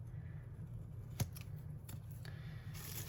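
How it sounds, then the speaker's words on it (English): Scissors snip along washi tape on a journal page, a few sharp close cuts spaced irregularly over a faint steady background hiss. "so here we're just going to cut along the washi."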